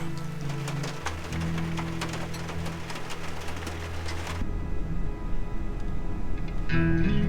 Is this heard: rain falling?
yes